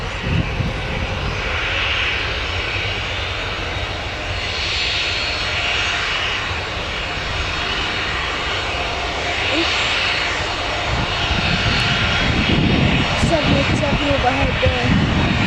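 A United airliner passes overhead, its jet engines a loud sustained roar rising and fading across the sky, with people talking alongside near the end.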